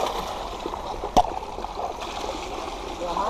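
Creek water rushes and gurgles steadily nearby in a creek bed, with a brief sharp knock partway through and the flow swelling slightly toward the end.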